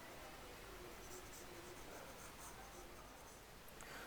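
Pen or marker writing out mathematical induction steps on a board, a faint scratchy rustle of strokes with small taps, quiet and close against a soft background hiss.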